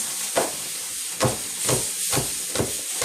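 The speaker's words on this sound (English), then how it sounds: "that pressure cooker is starting to make some noise" A pressure cooker on a kitchen stove, cooking a bean stew, gives off a steady steam hiss. Several louder puffs or rattles come at roughly regular intervals over about three seconds.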